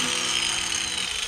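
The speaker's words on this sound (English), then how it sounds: "now I want to kind of chamfer the edge" Power tool grinding a chamfer onto a steel edge for a Jeep Cherokee tow hitch, a steady high whine held close and continuous for a second or so.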